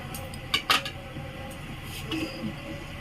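A utensil stirs and scrapes in a pan of raisins and cashews frying in ghee, with a few sharp metallic clinks early on and softer scrapes later, close and fairly faint over a low background hiss.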